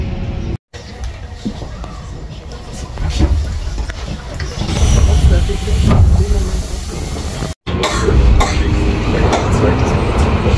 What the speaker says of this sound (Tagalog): Dito pa rin po kami sa train.